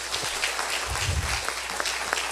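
A church congregation applauds during a sermon, a short, fairly faint, steady patter of many hands clapping, with a low thump partway through.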